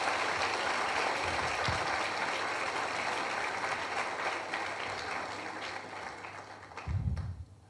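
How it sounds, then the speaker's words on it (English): An audience at a school graduation ceremony gives a round of applause, broad crowd clapping that slowly fades and ends with a low thump. "Please give the Form 1s and Form 2s another round of applause."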